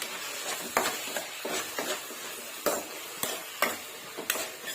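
Gongura chutney mixture with garlic, turmeric and fenugreek powder being stirred in a pan, giving a series of soft scraping and clinking strokes at an irregular rhythm over a quiet background.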